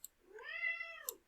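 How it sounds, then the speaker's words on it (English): A 20-year-old deaf cat lets out one loud, drawn-out meow, rising then falling in pitch over about a second, close up and alone in a quiet room. "She's extremely loud when she meows."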